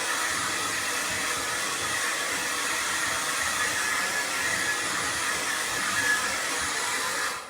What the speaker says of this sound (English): we're just going to blast that with the hairdryer to get all the dust off.